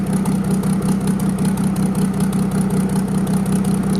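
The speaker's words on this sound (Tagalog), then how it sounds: "Hayaan lang po natin umandar ang makina mga kabroks." An overhauled Mercedes-Benz engine with a new cylinder head and injection pump idles loud and close, a steady, even rumble with a rapid regular pulse and no talk over it.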